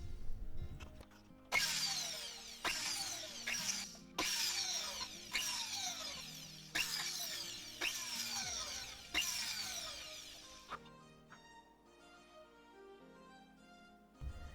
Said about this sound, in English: I use a 1mm cylinder burr to burr the side of the holes and bridge the holes together.